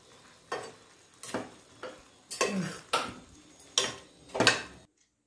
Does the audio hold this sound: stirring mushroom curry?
yes